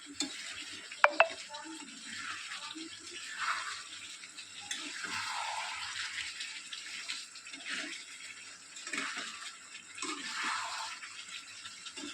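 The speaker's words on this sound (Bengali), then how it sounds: "আলুগুলো দিয়ে আর একটু ভালো করে কষিয়ে নেব" Potatoes being stirred and sautéed in a pan for a Bengali chicken curry, giving soft scraping and sizzling with a couple of sharp utensil clinks near the start and no talking.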